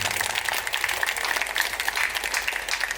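Audience at a high school thanksgiving Holy Eucharist service applauding loudly, a dense sustained wash of clapping lasting the whole stretch without pause.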